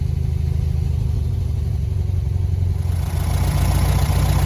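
A VW Beetle's air-cooled engine idles steadily after a timing adjustment, a loud close chugging rumble that lifts slightly toward the end, with no talking.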